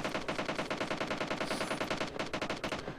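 Rapid automatic SCAR-L rifle fire rattles in a steady, fast stream of shots in a PUBG match on the Erangel map, moderately loud and continuous for the whole stretch.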